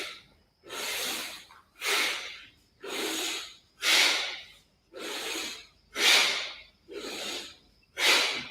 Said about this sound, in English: Exhale down, inhale up with the sound.